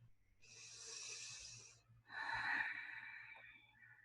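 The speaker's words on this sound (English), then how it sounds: "And just sensing your body breathing." Slow, deep breathing during meditation: a soft inhale followed by a longer, louder airy exhale, close and quiet with no other sounds.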